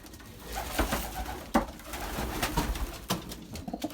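Belgian racing pigeons home at the loft after a 40 km young-bird test race, cooing close by among wing flaps and sharp knocks or landings, with steady bird chatter throughout.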